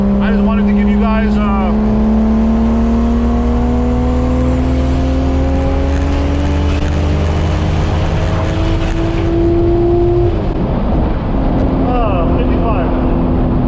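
A turbocharged 12v VR6 engine swapped into a B5 Audi A4 pulls hard and loud from the cabin. One long rising rev climbs steadily, then cuts off sharply with a brief gear change, and the revs build again.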